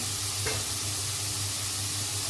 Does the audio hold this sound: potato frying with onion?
yes